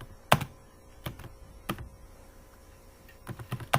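Sparse keystrokes tap on a computer keyboard, a few sharp, close clicks scattered across a quiet background, with a quick cluster of taps near the end and no talking.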